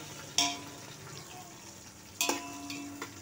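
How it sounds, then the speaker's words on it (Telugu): Mustard seeds, cumin and two dried chilies crackling in hot oil, with a soft steady sizzle broken by two sharp bursts of spattering and clinks, close and fairly quiet. "గిన్నెలో ఆయిల్ పోసేసి ఆవాలు, జీలకర్ర, ఒక 2 ఎండుమిర్చీలు"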